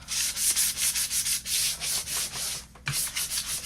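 Rapid back-and-forth scratching of sandpaper on a wooden cabinet door edge, a steady rhythm of short rubbing strokes, close and fairly loud, with a brief pause near the end.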